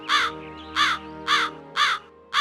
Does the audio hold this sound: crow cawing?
yes